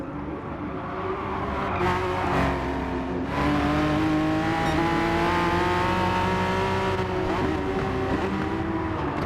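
Race cars run nose to tail in a racing video game, their engines holding a loud, continuous high-revving drone with slight pitch shifts and a brief tire squeal, with no voices over it.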